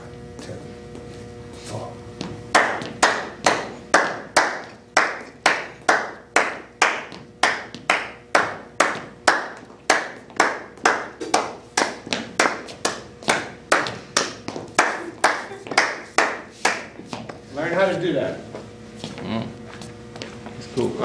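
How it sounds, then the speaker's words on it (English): Hands clap a rhythmic pattern of sharp, evenly spaced claps, loud and close, repeating steadily for most of the span before a brief pause and a few final claps. "you clap a 2-3 clap"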